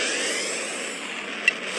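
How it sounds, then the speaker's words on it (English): Spaceship warp drive in a space video game, a steady airy engine whoosh, smooth and continuous, with a short sharp chime near the end and no voices. "Commencing warp."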